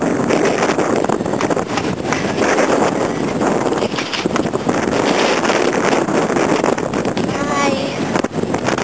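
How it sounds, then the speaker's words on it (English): Strong gusting wind buffets the microphone in Christchurch, a loud, continuous roar with rushing bursts throughout, with voices faintly present underneath. "It's so windy."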